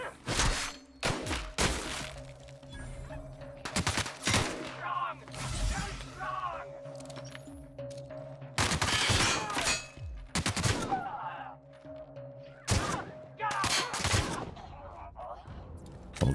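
Gunfire in The Outer Worlds, with scattered sharp shots and short bursts spread across the stretch and loud clusters between quieter gaps, mixed with game sounds and a person talking.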